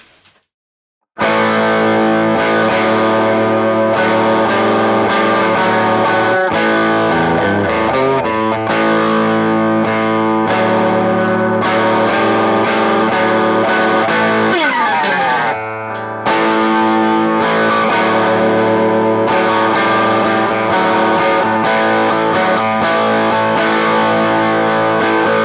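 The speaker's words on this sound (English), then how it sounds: "the next thing you'll hear will be me playing the intro" Electric guitar with heavy distortion and chorus effects plays the intro of a song, loud and sustained, with a short break partway through.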